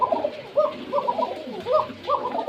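Pigeons coo repeatedly in a mellow, rolling, flute-like rhythm at a breeder's farm, several calls in quick succession from close by, with no talk over them.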